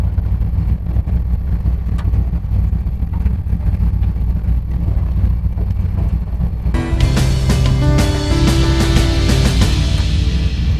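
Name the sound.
street rod engine rumbling through 3-inch stainless exhaust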